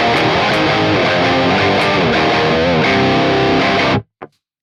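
Electric guitar played through an Orange Rocker 15 with a Fortin Grind boost, heard through the Studio Contenders cab plugin at default settings: loud, dense, heavily distorted chords ringing continuously for about four seconds, then cut off, with one brief final hit.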